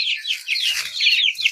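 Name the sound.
chicken hen clucking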